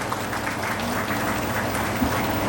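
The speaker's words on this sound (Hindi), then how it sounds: "एक बार उनके लिए भी थोड़ी जोरदार तालियां।" An audience at a Vishwakarma Puja gathering claps, giving a brief, steady wash of applause with a low hum running beneath it.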